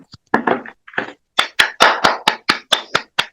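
Audience applause welcoming the next presenter at an education policy research meeting: a handful of separate, sharp claps, sparse at first, then a quicker steady run of about ten distinct claps, close and clear.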